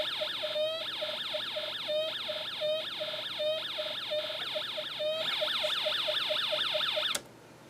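An electronic alarm IC on a Snap Circuits kit warbles in repeated rising sweeps, steady and fairly loud, shifting pitch midway before cutting off abruptly near the end.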